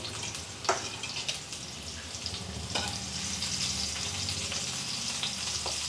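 Five small onions fry in a pan with a steady, close sizzle and crackle throughout, a few sharp ticks and stirring scrapes standing out over the hiss.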